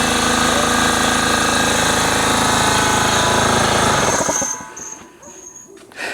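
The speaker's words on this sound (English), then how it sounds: "let's wait for this air compressor to turn off" A loud air compressor runs with a dense, pounding mechanical drone that cuts off abruptly near the end, leaving a quieter workshop background.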